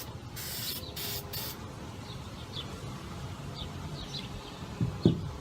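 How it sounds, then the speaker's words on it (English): Spray paint can hissing in three short, loud bursts close by, followed by quieter background noise and faint bird chirps. "So I'm just going to spray paint a little bit more"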